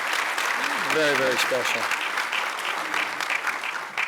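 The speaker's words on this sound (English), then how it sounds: "Can we give each of them another round of applause?" Sustained applause from a ceremony audience honoring award recipients, a dense, fairly loud wash of clapping throughout, with someone speaking briefly over it near the start.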